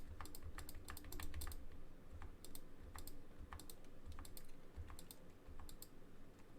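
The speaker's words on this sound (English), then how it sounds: "I use my keyboard so it avoids the clicking." Someone types on a computer keyboard while playing Football Manager 2021, giving a steady run of quick, close key clicks in uneven bursts over a low background hum, with no talking.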